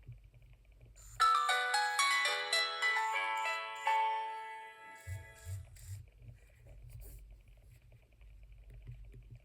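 A Nokia 6230i mobile phone plays a bright, clear polyphonic ringtone melody for a few seconds, loud and close, set between stretches of low rumbling background noise.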